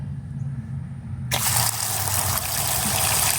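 Water suddenly bursts from a garden hose attachment in a side garden, a loud steady gushing spray that starts abruptly and continues, with no talk.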